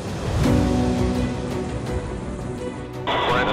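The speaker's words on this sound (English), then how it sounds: "We're in a storm, dude." A storm at sea roars during a Coast Guard helicopter rescue, with loud, constant wind and crashing water and a faint tonal mechanical hum underneath, steady and close.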